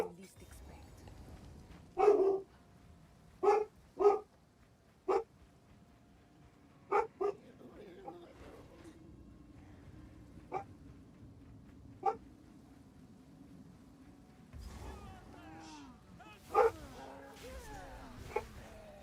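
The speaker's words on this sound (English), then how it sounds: "Dog." A dog barks in short, sharp bursts, about a dozen spread irregularly over a quiet stretch, with some yips and whimpers and occasional talking in between.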